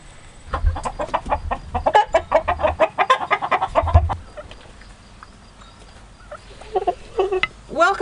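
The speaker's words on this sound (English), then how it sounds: "Welcome to my chicken coop." Canadian breast chickens in a backyard coop give a rapid burst of close clucks and squawks, then quieter scattered clucking, with a few low thumps from the birds moving about.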